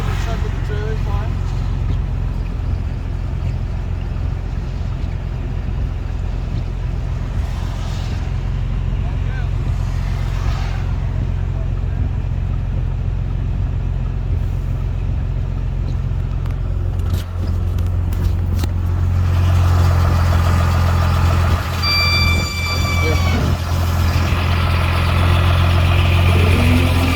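A pickup truck's engine idles and runs steadily while it slowly reverses a gooseneck trailer onto a road. The engine drone stays continuous and fairly loud throughout, with people talking over it.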